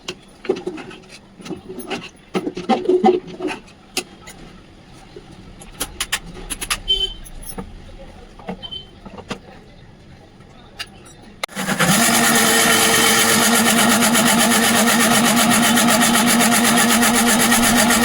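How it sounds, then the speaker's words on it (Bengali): An electric kitchen mixer grinds about 25 grams of chopped ginger and four green chillies, starting after scattered clinks and handling sounds and then whirring loudly and steadily to the end. "আমি দিলাম এখানে মিক্সিতে 25 গ্রামের মতন আদা কুচি আর 4টে কাঁচা লঙ্কা।"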